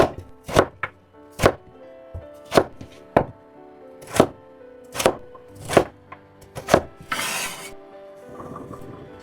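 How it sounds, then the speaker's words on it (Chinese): A knife dices a carrot into small cubes on a board, about ten sharp, evenly spaced chops close up, ending in a brief scraping sweep. "一塊胡蘿蔔也切成胡蘿蔔丁。"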